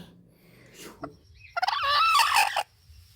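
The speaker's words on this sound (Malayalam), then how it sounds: "കോഴിയായിരിക്കും" A chicken lets out a loud, close, drawn-out call lasting about a second, after quiet rustling and a couple of faint clucks.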